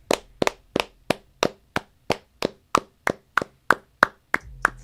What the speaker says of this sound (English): you want to look me in the eyes while we clap?